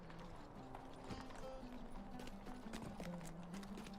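Horse hooves in a video game: a steady, quick clip-clop of hoofbeats at moderate distance, continuous throughout, mixed with a faint tonal in-game sound layer and no speech.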